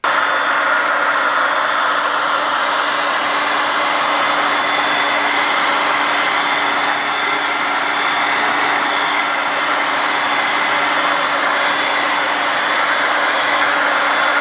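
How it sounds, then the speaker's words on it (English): A hair dryer blows a loud, steady whooshing stream as it warms a car's leather seat, continuous and close with no talking. "I'm going to warm this leather up with a hair dryer"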